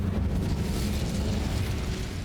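The Incendio fire spell in Hogwarts Legacy goes off as a loud, sustained roaring whoosh of flame with a rumbling low end, continuous and close for the whole stretch.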